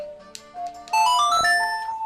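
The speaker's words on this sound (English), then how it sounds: "play each note of the Song of Time, say, twice. Double time." Song of Double Time from The Legend of Zelda: Majora's Mask, played as an ocarina melody with doubled notes, a short bright sequence of rising tones with light sparkle effects, clear and alone.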